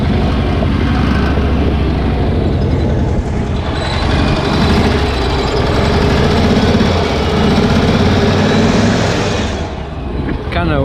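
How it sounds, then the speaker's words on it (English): A Cushman Truckster engine runs loud and close with its alternator charging, a continuous rough droning rumble that holds steady for several seconds before easing slightly at the end. "you can hear the alternator charging"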